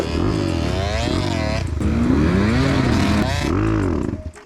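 A KTM enduro motorcycle engine roars loudly and continuously while the bike is ridden, its pitch rising and falling with the throttle through uneven revs close by.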